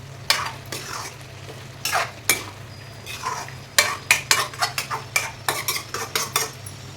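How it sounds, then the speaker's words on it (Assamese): Chicken and potato curry stirred in a pan with a metal spoon, giving repeated sharp scraping clinks that speed into a quick rhythmic run near the end over a low sizzle and steady hum, close up, no speech. "আৰু লৰাই দিম এতিয়া।"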